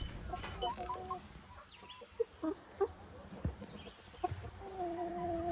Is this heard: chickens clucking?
yes